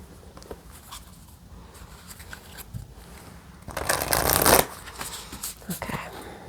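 Spirit Animal Oracle cards being shuffled by hand, soft papery riffling that builds into a louder dense burst midway before tapering into lighter card taps, close and with no talking.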